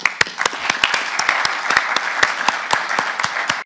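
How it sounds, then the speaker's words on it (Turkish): An audience applauds steadily at a Mercedes-Benz sponsorship event for national sports teams, a dense wash of clapping with sharp individual claps standing out throughout. "kendilerini buradan alkışlıyorum"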